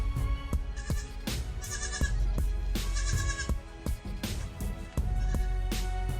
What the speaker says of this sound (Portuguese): o filhote de cabra, o cabrito, nasce após 150 dias de gestação